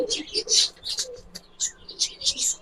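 Giribaz pigeons coo in a series of soft, rhythmic calls, with brighter chirping bursts mixed in, held close and at moderate loudness amid faint background noise.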